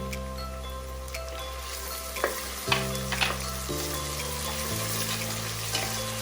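Onions and tomatoes sautéing in a pan as the base for a mutton gravy, a continuous close sizzle with brief stirring scrapes and a few clinks, steady background hum underneath.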